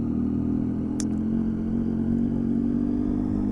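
A motorcycle rides along to a pressure washer, its engine a loud, steady low drone throughout with one brief sharp click early on.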